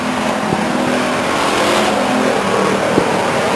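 Race cars at Stockton 99 Speedway roar through the chute between turns 3 and 4, a dense, loud, continuous engine blare with faint pitch sweeps as cars pass close by.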